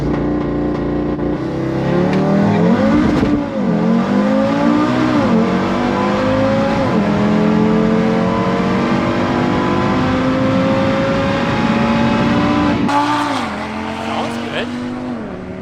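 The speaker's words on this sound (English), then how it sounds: "Kyle's going for his pass" An Audi RS3 with a DS1 hybrid turbo accelerating hard down a drag strip during a pass, the engine loud and continuous, climbing through gears with brief dips at each shift.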